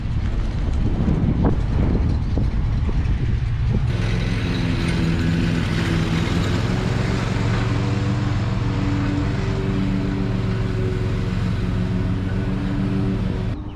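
A vintage box truck's engine runs in a steady, loud drone as it reverses toward a carport, with its tone settling into a constant hum partway through under heavy wind rumble.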